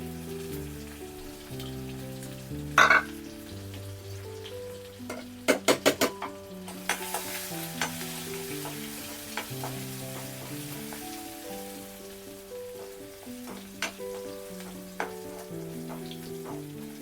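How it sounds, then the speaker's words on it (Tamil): Dried red chillies and crushed garlic fry in hot oil with popped mustard seeds, a soft steady sizzle broken by a few sharp clicks of stirring, quiet and close. "காஞ்ச மிளகாய் போட்டுக்கலாம். பூண்டு தட்டி வச்சுருக்கிறத போட்டுக்கலாம்."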